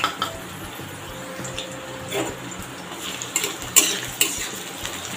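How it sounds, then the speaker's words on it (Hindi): Sliced onion frying with cloves, black and green cardamom and cinnamon for a mint chicken masala curry, heard as scattered utensil clinks and scraping against a pan over a faint steady sizzle, with no talk. "अब इसको हम लोग ट्रांसलूशन होने तक भून लेते हैं।"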